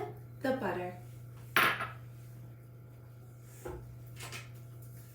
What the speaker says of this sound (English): Now I'm going to add my granulated sugar so that I can cream together the sugar with the butter